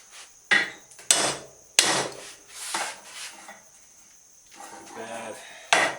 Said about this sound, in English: Yeah, hammers are good for something.